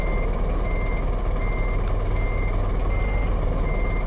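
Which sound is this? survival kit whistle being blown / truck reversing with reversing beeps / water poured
truck reversing with reversing beeps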